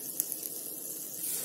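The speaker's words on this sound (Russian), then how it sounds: "Теперь оладушки жарятся" Steady, soft crackling sizzle of pancake batter made with cottage cheese frying in a hot pan, continuous and fairly quiet with a few small pops.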